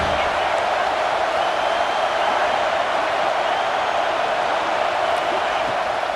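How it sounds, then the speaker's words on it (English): A stadium crowd roars in College Football 26 at an Ohio State game, a steady dense wall of cheering that holds level throughout, loud and continuous. "the Buckeye crowd alive on third down"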